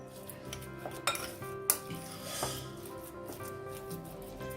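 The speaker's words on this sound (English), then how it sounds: "capsicum, mushroom, and give it a good mix" A spoon stirs chicken soya pancake batter with capsicum and mushroom in a bowl. Soft scraping and occasional light clinks of utensil on the bowl sound close and fairly quiet, with no voices.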